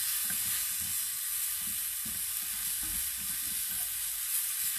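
Tomatoes cook down in a frying pan with a loud, steady sizzle throughout, broken by soft, irregular scraping taps from stirring.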